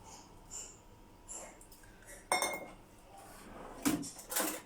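A spoon mixes crushed biscuits with melted butter in a bowl for a cheesecake base, giving quiet scraping and occasional sharp clinks against the bowl, with soft breathing in between.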